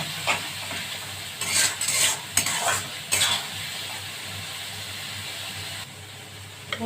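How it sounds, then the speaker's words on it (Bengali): Rita fish heads sizzle in a pan with turmeric and salt, a low steady frying hiss broken by bursts of scraping and clattering from a spatula stirring against the metal, then quieter sizzling; no voices. "এবার এটাকে কষাতে হবে।"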